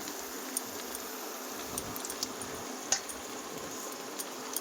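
Chili powder, coriander powder and cumin sautéing in oil for a mutton curry: a soft, steady sizzle with scattered faint crackles and pops, no voices.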